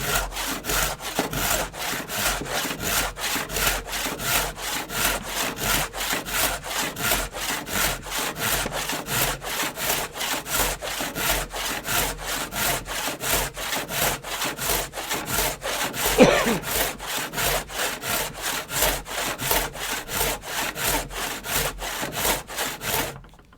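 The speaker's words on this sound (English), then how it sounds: "this is what we call a rip saw" Steady back-and-forth rasp of a rip saw cutting along the grain of wood, a fast even rhythm of strokes running throughout, close and loud, with no voices.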